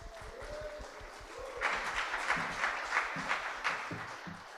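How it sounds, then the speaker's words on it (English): Audience at a launch event for The Road to Nashville 2022 breaking into cheering and applause, with rhythmic thuds at the start, then a swell of claps and voices that keeps going. "So can we give him a big cheer this end?"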